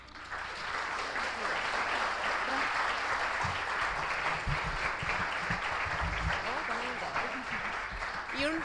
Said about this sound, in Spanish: le otorgamos también un muy fuerte aplauso.